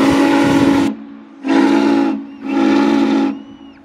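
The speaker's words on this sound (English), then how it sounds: "a lot of people going to be tooting the whistle" Steam whistle of the Norfolk & Western J class 611 locomotive sounding three loud, close blasts, the first cut off sharply and the next two longer with smooth swells, separated by brief pauses of quiet hiss.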